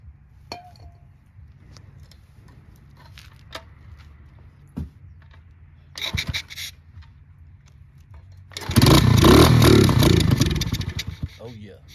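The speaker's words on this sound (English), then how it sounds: "Let's see if we can get this baby running right quick." A 50cc pit bike engine catches and runs loudly for a few seconds, preceded by scattered clinks, taps and scrapes of tools and parts up close; the engine burst is rough and sputtering.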